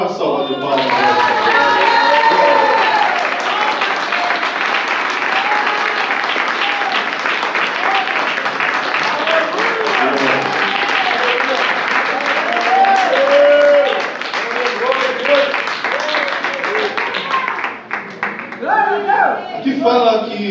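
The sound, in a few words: congregation applause in church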